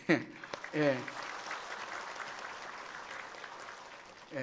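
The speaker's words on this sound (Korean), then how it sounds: "한번 일어나서 우리 경례 박수 한번 하도록 하겠습니다." A church congregation stands and claps in salute for a visiting broadcasting network director. A brief voice comes first, then dense clapping fills the room for a few seconds.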